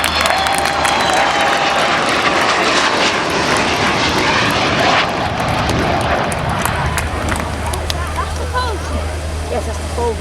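Avro Vulcan XH558 bomber in flight at RNAS Culdrose, a loud continuous jet roar that fills the air for the whole span, with faint crowd noise beneath.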